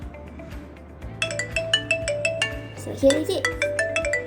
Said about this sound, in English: The doorbell is calling you.